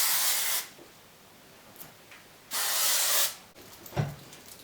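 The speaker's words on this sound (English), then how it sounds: "Ultimate Stylist Biotin Plus Volume Hairspray for Stronghold." Ultimate Stylist Biotin Plus Volume hairspray sprays in two steady hissing bursts, each lasting under a second, close and fairly loud, with quiet pauses between them.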